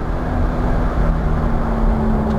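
A Nissan S13 240SX drift car on a track drones steadily and loudly through braking and a downshift, its engine and road noise close and continuous, with no voices.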